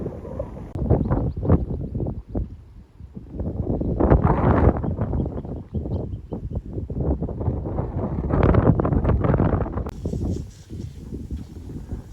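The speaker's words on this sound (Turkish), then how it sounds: "şu an burada acayip bir rüzgar var" Strong wind in a canyon near the historic Çeşnigir Bridge in Kırıkkale buffets the microphone in heavy, rumbling gusts that rise and fall throughout.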